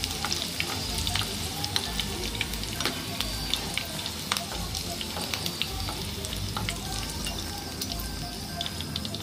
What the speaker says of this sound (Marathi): एवढ्या गरम तेलात मिरच्या तळून होतात